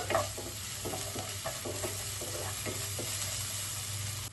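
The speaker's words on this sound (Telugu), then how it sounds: "అల్లం వెల్లిపాయ పేస్ట్ వేగిందండి." Ginger garlic paste frying in a pan, a constant moderate sizzle with regular scraping stir strokes at an even pace, close and with no talking.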